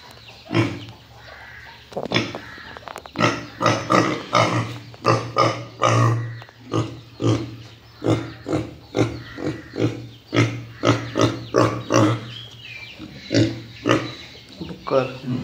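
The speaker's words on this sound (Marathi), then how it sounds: "हे बघा डुक्कर, तुम्हाला दाखवतो डुक्कर." Pigs on an uncle's farmhouse grunt and oink in a rapid series of loud, close bursts, with someone talking over and between the animal sounds.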